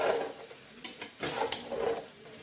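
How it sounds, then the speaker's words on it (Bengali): Fried rice with vegetables, cashews and raisins stirred in a pan, giving a few scraping, rustling strokes over a soft sizzle, close and moderately loud with no talking. "দিয়ে আমি এটাকে ভালো করে নাড়বো"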